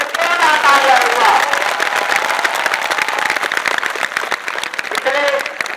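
A crowd at a school science academy's results event claps, giving a steady patter of many hands, loud and sustained, with a voice and some cheering mixed in near the start and end.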